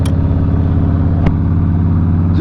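A 2008 Harley-Davidson Crossbones motorcycle engine runs close and loud at a steady idle with a throbbing low rumble, broken by one brief click.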